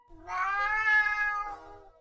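A black cat in a horror radio drama gives one long, drawn-out meow, clear and close, rising then trailing off into a lower wavering tail over a faint low background rumble.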